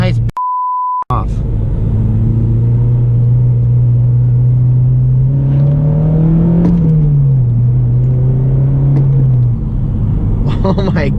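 Honda Civic Si with a Hondata Flashpro tune, its engine droning loudly from inside the cabin and rising in pitch as it revs, then easing off, after a brief electronic beep at the start.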